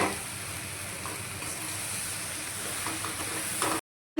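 Potatoes frying and being stirred in a pan: a steady, close sizzle with faint scraping stir sounds throughout, cut off abruptly near the end.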